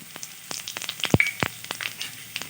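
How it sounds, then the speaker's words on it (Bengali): Whole spices, including panch phoron, cumin, whole cardamom and cinnamon, dropped with dried red chili and a pinch of asafoetida into hot oil, crackling with quick, irregular pops over a light sizzle. "এবার আমি ওই তেলে ফোড়ন দিয়ে দিচ্ছি 5 ফোড়ন, জিরা, গোটা এলাচ, দারচিনি,"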